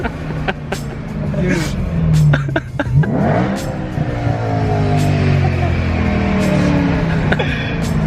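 A supercharged BMW M3 accelerates with a loud, sustained engine roar that rises in pitch through the gears, heard from inside the car with some voices in the background.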